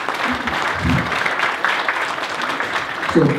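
Audience applause at a fire academy graduation ceremony for Class 32, a steady wash of clapping from a crowd indoors, with faint voices mixed in underneath.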